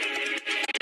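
Glitched electric guitar run through a clean effects rig, a bright, dense stuttering texture that plays continuously and then chops into short rhythmic bursts with abrupt gaps near the end.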